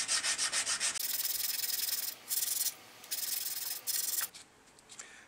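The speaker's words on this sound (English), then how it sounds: "I'll just continue to sand until that's perfectly flat" Sandpaper rubs wood flat on a Black Pearl model ship, a loud, steady rasping that comes in a fast burst of short strokes, then longer sustained passes broken by brief pauses, with no voices.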